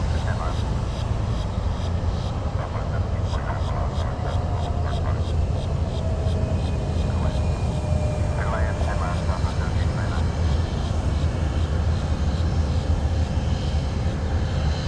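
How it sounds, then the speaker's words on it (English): A jet plane at Fort Lauderdale–Hollywood International Airport gives a steady, loud engine roar that runs unbroken throughout, with faint radio chatter mixed in underneath. "Talking about a jet plane."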